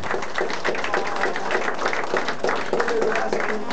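Dense, steady applause from a party crowd honoring a birthday girl at an evening celebration in Comas, continuous for several seconds with voices mixed in.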